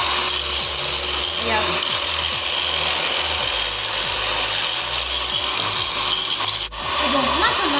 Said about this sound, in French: Et vous commencez à battre avec le batteur